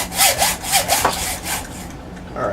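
A Mosin Nagant gun barrel, held in a vise and C-clamped on a piece of scrap wood, is cut with steady back-and-forth saw strokes, loud and close, about six rasping passes.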